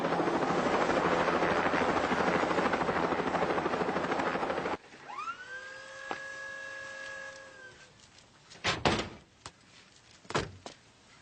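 A helicopter rotor throbs loudly and steadily overhead, then cuts out and gives way to a high electronic tone and a few sharp mechanical clunks.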